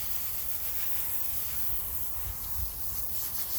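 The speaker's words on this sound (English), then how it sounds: "I'll take my Orbit sprayer and I'm going to rinse it off real quick" Water from an Orbit hose sprayer rinses a dirty wheel and white-wall tire being cleaned of grease and grime, a steady broadband hiss that runs close and unbroken throughout, with no talk.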